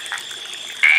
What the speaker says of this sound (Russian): О, лягушечка. Квакает.